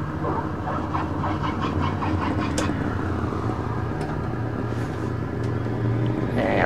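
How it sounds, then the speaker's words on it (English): Cessna 421C twin-engine aircraft with its right engine being restarted in flight, a loud steady droning engine rumble with a low hum throughout and faint clicks, constant and close. "I'm going to restart this right engine."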